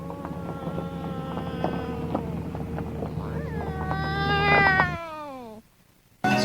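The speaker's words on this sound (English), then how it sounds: "We hear this awful shrieking that's supposed to be a cat" A loud, drawn-out cat shriek rising in pitch over a steady background hum, then cutting off abruptly into near silence before a brief burst.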